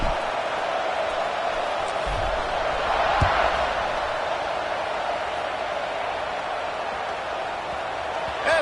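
A stadium crowd in the College Football 25 video game keeps up a steady, dense roar with little change, swelling slightly partway through.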